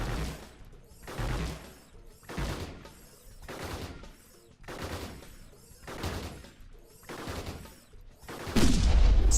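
Robots fire weapons in the programming battle game Gladiabots, a run of repeated bursts of synthetic gunfire in quick volleys, loud and punchy, with a heavier blast at the end.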